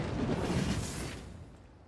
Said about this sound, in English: that was the sound of more stuff getting pillaged